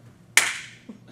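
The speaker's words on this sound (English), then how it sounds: "Bonus points for a loud clapping sound." A single sharp, loud hand-to-hand clap as two men lock hands in a bro hug, with a quick decaying ring, followed by a faint low thud; otherwise quiet.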